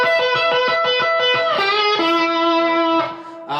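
Distorted electric slide guitar plays the classic lick, with a fast, repeated, rhythmic figure that slides into sustained ringing notes, loud and close with no talking.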